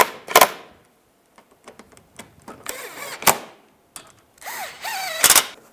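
Power tool whirring in short close bursts as it drives bolts on a 2010-2015 Toyota Prius bumper, with clicks and handling noises between the runs.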